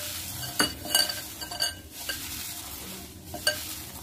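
Crushed poha and chopped onions mixed by hand in a bowl, making soft rustling and squishing with a few light knocks and clinks against the bowl.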